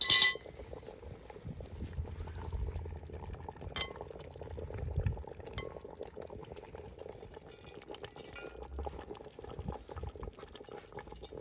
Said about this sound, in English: We're going to splash the top again with some fluid.